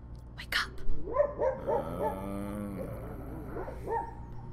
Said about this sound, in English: I think the dog's barking at something.